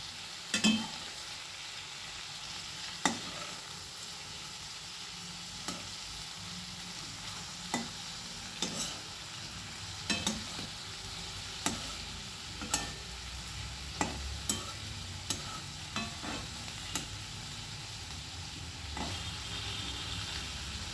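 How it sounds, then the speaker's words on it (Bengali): Prawns fry lightly in oil in a pan, a continuous soft sizzle with regular sharp scrapes and taps of a spatula every second or two as they are turned, close and moderately quiet. "এই চিংড়ি মাছটাকে কিন্তু আমি একদম সামান্য ভাজবো, খুব সামান্য, জাস্ট এপিট ওপিট করবো"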